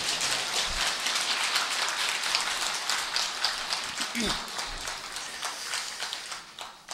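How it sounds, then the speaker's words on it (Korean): An audience claps at a Buddhist dharma service, a dense, steady patter of many hands heard from a moderate distance that thins slightly toward the end, with faint voices underneath. "이럴 때는 박수를 쳐서 분위기를 바꿔요."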